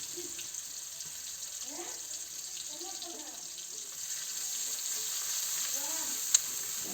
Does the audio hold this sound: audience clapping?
no